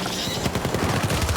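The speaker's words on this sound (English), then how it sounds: "I have to waste a full mag on these guys to drop them." Rapid automatic gunfire in the video game Syndicate, fired on the hardest difficulty as a full magazine is emptied into armored enemies: a dense, continuous burst of close, punchy shots with no pause.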